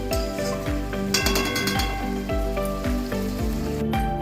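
Prawn malai curry frying in a pan, a loud continuous sizzle with occasional clinks and stirring scrapes, close and steady with no talking.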